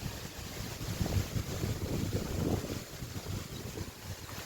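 Strong gusting wind roars across an open rural spot near a hut and coconut trees ahead of rain, a steady loud rumble of buffeting with no voices.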